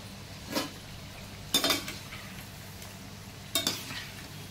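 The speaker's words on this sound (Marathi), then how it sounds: "मंचुरियन टाकल्यावर लगेचच आपल्याला त्याला हलवायचं नाही आहे" Cabbage manchurian balls fry quietly in hot oil with a low, steady sizzle, broken by three brief, louder bursts of clinking and scraping against the pan.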